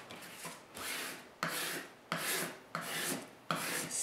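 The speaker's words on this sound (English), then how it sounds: "I like to use a spatula to get all the bubbles out." Spatula smoothing fabric onto a cutting mat: five or six firm rasping strokes close by, each a broad scraping rub of roughly half a second to a second with a short gap between.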